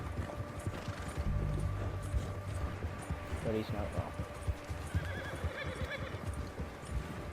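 Horse hooves clip-clop steadily and a horse neighs in the Red Dead Redemption 2 video game, close by under game music and character dialogue.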